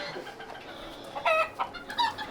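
Several chickens cluck and chatter close by in short bursts over scattered grain, with soft rustling between calls.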